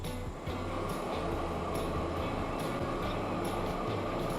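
Train running in Transport Fever 2, a steady rumbling rail drone with a rhythmic clack of wheels over joints repeating roughly every half second to second, moderately loud and unbroken, no voices.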